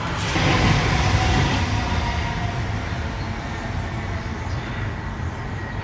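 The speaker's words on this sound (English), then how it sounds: "There's a train coming." A train rolls past an allotment, a broad, loud rumble that swells early and then fades into a steady rushing clatter, with no voices.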